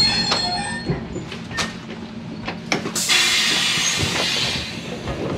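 Steady rumble and rattle of a train rolling along rails, with occasional clanks and a brighter hiss rising midway, continuous and close.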